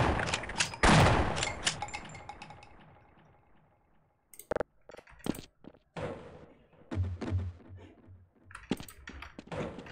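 Gunshots fired at a ladder in the shooter Half-Life 1: one loud echoing blast that rings out and decays, followed by scattered sharp clicks and thuds in a quiet space.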